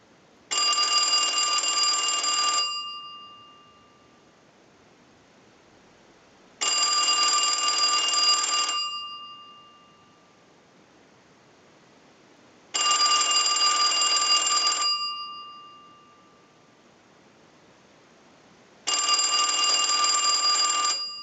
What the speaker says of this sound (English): use the bell in the on setting, and we'll go ahead and use the analyzer and start the ring cycle